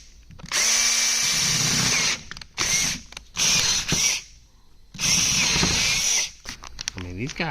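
A power drill drills out screws from a Noco Genius Pro battery charger in repeated loud bursts of several seconds each, separated by short pauses, with a ratcheting click near the end and a voice heard only briefly.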